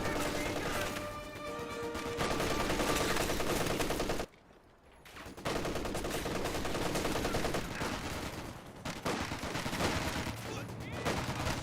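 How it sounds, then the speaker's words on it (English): MG34 machine gun laying down suppressing fire at an intersection in Company of Heroes 2, sustained loud rattling bursts mixed with other battle noise, broken by a sudden brief quiet gap just after four seconds. "I see here the MG34 suppressing down this intersection"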